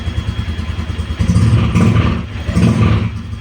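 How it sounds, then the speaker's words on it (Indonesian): A Honda Vario 125 scooter engine keeps idling after the ignition is switched off, a loud close steady putter with slight surges in its rhythm and no speech. "mesin masih jalan kan, masih nyala ya"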